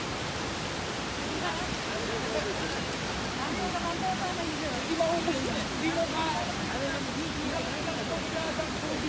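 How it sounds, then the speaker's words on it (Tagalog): Waterfall and river in Canada, a steady broadband rushing of water throughout, with faint voices talking underneath. "May river, waterfalls."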